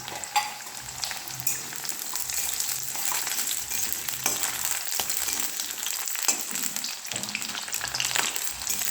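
Radish pieces frying in hot oil give a steady, dense sizzle with faint scrapes of stirring, close and continuous with no voices.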